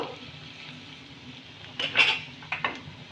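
Chopped garlic being stirred in a pan over low heat, a few light metallic scrapes and clinks of a utensil against the pan over a soft, quiet background.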